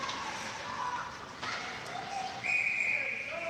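A referee's whistle shrills at an ice hockey game during an OWHA championship weekend, a sustained high tone over steady arena noise and crowd murmur, followed by a second, fainter whistle tone.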